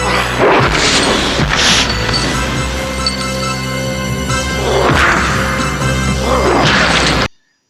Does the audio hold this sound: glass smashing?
yes